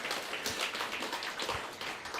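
A church congregation applauds during a sermon, a soft, fairly distant patter of many hands clapping, steady and even across the moment with no voices over it.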